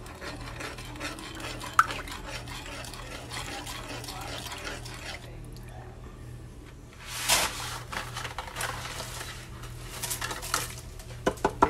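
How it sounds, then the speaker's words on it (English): Spoon stirring a bronzing spice mixture into Cajun chicken pasta, soft scraping and clinking of utensil against the pan, fairly quiet with a brief louder burst midway and a few sharp clinks near the end. "Stir in a spoonful of your bronzing mixture."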